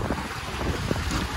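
Steady, rushing wind buffets the microphone by the open Black Sea at Sochi in July, a dull continuous roar with no voices.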